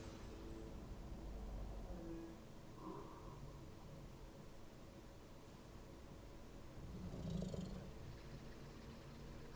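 A cat purrs softly and continuously in the video game Infinity Nikki, a low rumbling cycle that is faint and close, with no talk over it.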